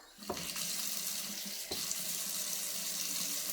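A tap runs steadily while hair is being rinsed, a continuous close splashing stream with a couple of sharp knocks against the basin.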